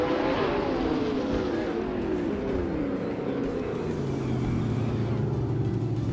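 A 2013 McLaren P1 and other race cars roar steadily through Cadwell Park Woodlands in a racing video game, engines droning with shifting pitch as they speed along, loud and continuous.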